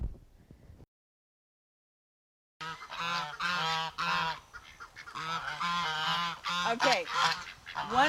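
A flock of geese honks loudly and continuously with overlapping calls, after a short quiet stretch at the start, on a farm that also keeps a donkey and a goat.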